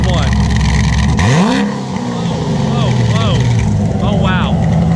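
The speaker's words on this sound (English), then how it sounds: "Rev it up. A little higher." An 841hp Corvette engine revving hard, rising and falling sweeps of a deep growl with a high whine on top, close and loud, while people talk over it.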